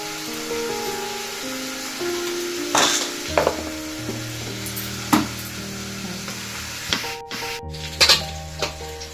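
Vegetables and spices fry in a pan with a steady sizzle while a spoon scrapes and stirs, clinking against the metal now and then at close range.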